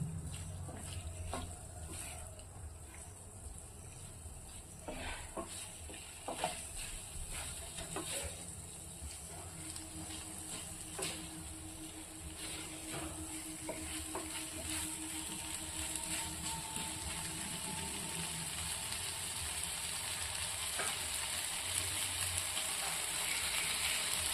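Pointed gourd fries in a pan with a continuous quiet sizzle, broken by irregular scrapes and clicks of a utensil stirring the pieces.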